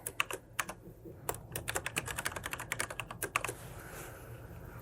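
A password is tapped out on a computer keyboard, a quick, uneven run of crisp key clicks close by, thinning out toward the end over a low background hum.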